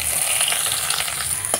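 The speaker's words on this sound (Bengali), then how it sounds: "এবার এই গরম তেলের মধ্যে বেশ কিছুটা কুচনো পেঁয়াজ দিতে" Chopped onions sizzle in hot mustard oil, a continuous bright frying hiss with faint stirring crackles, close and steady.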